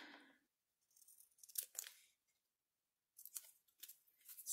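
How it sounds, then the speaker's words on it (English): Scissors snip through a paper tea tag trimmed for journal decorating, two short bursts of crisp close cutting separated by a silent pause. "Let's cut off this little end piece here as well."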